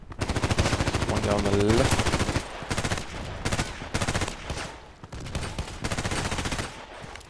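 Rapid, loud bursts of Vintorez sniper rifle fire in a deathmatch video game, repeated volleys separated by short gaps, with someone talking briefly between shots.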